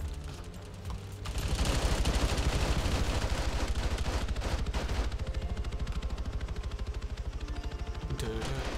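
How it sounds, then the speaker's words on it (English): Heavy .50 cal machine gun fire in Arma 3, a loud, continuous rapid burst of close shots that starts after a short lull and keeps hammering with little pause. "50 cal shooting you."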